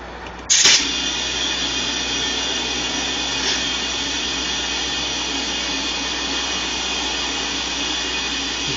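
Small portable cigarette-lighter tire inflator pumping up a tire on an aluminum rim, starting abruptly with a click and then running as a steady, loud, buzzing motor drone throughout.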